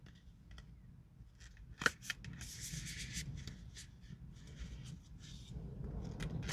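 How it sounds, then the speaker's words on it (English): An oracle card deck is shuffled by hand in a quiet room: soft, close papery rustles, slides and light taps come in irregular bursts, with a brief sharper snap early on. "So we're just doing some random things to shuffle these cards"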